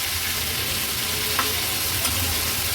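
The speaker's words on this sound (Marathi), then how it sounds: "आता ही तुकडी पलटून घेऊया" Fish pieces frying in a pan and being flipped over, a soft continuous sizzle close by with a couple of light clicks as the pieces turn.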